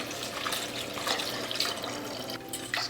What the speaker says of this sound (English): I'm just going to wash it a couple times first.